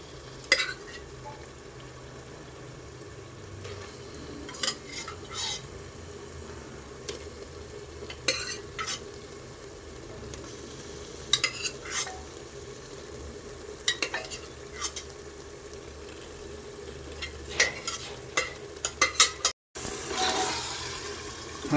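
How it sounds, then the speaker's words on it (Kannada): Mutton biryani masala with mint and cooked mutton being stirred and fried in a pan over high flame, a steady sizzle under repeated scraping and clinking strokes of a spoon against the pan, close and fairly quiet, with no talk. "ನಾವು ಹೈ ಫ್ಲೇಮಲ್ಲಿ ಚೆನ್ನಾಗಿ ಮಿಕ್ಸ್ ಮಾಡ್ಕೋಬೇಕು."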